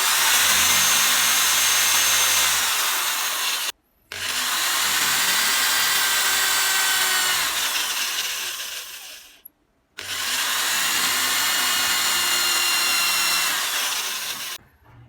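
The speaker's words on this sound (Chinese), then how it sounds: "打3个定位孔。" A small power drill bores holes into a piece of bamboo for a whistle, running in three long, steady, whining bursts separated by brief pauses, loud and close.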